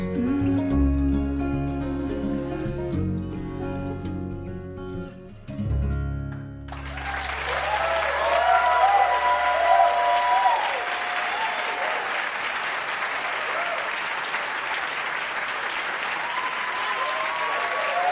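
Audience applause at a live music show breaks out after a song ends, a dense, steady wash of clapping and crowd noise that swells and holds loud for the rest of the clip.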